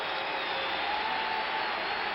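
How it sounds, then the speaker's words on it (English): A football stadium crowd at the 1973 NFC Championship game, Minnesota Vikings at Dallas Cowboys, rising in a steady, dense roar of cheering heard from a distance with a muffled, narrow quality. "And the crowd is coming alive."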